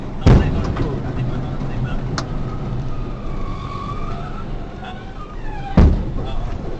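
Two sharp, booming bangs a few seconds apart, explosions behind a truck, cut through steady road and engine noise, with a faint click between them.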